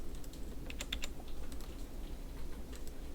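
Typing on a computer keyboard while entering a value and pressing Enter in drawing software: a quick run of light, close key clicks, several sharp taps clustered near the start and scattered presses after, with no talking.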